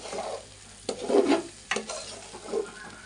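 Bhuna khichuri, Bangladeshi style, is stirred in a frying pan with a spatula, giving several scraping strokes over a soft sizzle at close range with no talking.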